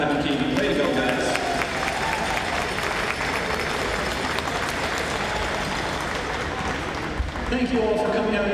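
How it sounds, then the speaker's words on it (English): Sustained crowd applause rolls through the arena at a Minto Cup lacrosse game, Edmonton Miners versus Whitby Warriors, loud continuous clapping and cheering that briefly dips near the end, with an announcer's voice audible over it. "Let's have another big round of applause for Adam and Keegan."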